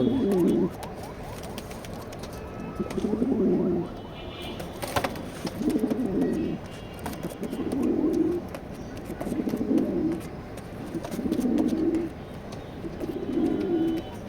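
Grizzle pigeons coo in a loft, seven rhythmic low throaty coos repeating every two seconds or so, close and clear over faint background rustle.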